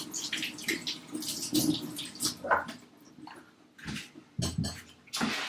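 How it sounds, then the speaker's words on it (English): Potatoes are washed under running water, splashing and rinsing in irregular bursts with short pauses, close and fairly quiet. "Now we're gonna wash the potato"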